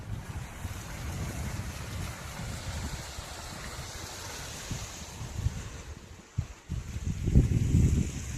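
Water from the Varapur dam rushes along a channel into a storage area near Pudukkottai: a steady, broad rushing wash, close and continuous, with brief gusty bumps near the end.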